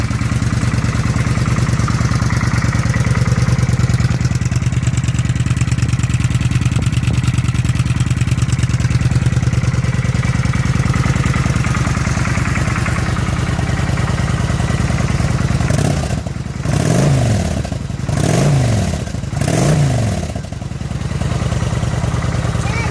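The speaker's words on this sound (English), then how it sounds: "So we're going to start this bike." A 2007 Kawasaki Vulcan 900 motorcycle on its stock exhaust pipes idles with a steady, close rumble, then gets three quick rising revs near the end before settling back to idle.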